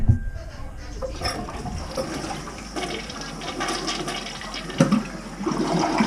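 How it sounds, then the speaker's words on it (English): Toilet flushing during work on a clogged toilet, with possible main sewer blockage: one continuous rushing, gurgling flush of water close by, with a slight surge near the end and no talking. "Get one more flush here."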